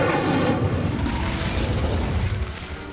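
The Incendio fire spell in Hogwarts Legacy bursts with a loud, sustained whooshing roar of flame that fills the moment and then eases slightly at the end.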